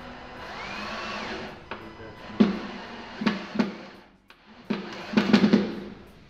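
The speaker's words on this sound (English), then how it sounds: "we can just go ahead and drive those 2 screws" A power driver driving two screws into the neck of an acoustic guitar in a workshop, giving short bursts of whirring and clicking at close range, with brief pauses between them.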